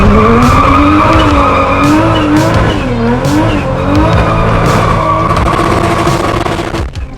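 A Toyota Supra with a 2JZ-GE engine tuned for high boost does a burnout, its tires shrieking in loud wavering tones over a roaring, revving engine throughout.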